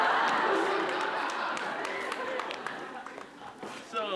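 A television studio audience claps on a Taiwanese variety show after a singer's performance, a loud burst of applause and crowd noise that slowly fades, with a voice speaking near the end.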